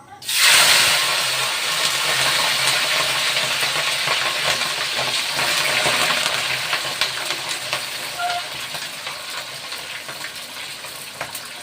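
Shrimp drop into very hot oil with a sudden loud burst of sizzling that settles into a steady, bright hiss and crackle of frying, continuing close and loud.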